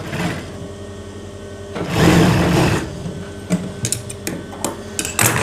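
Foot-pedal sewing machine stitching the facing onto a kameez neckline, running in a steady mechanical whir for a few seconds, then breaking into short bursts of stitching and clicks.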